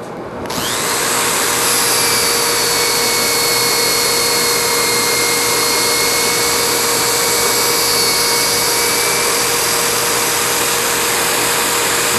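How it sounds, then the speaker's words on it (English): Sanding disc spinning against wood on a lathe, a loud continuous whirring hum that starts abruptly and holds steady with a faint high whine, no talking. "The sanding disc is moving that way against it."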